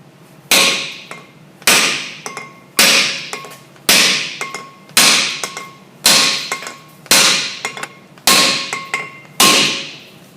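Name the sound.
mini sledgehammer tapping brake rotor hub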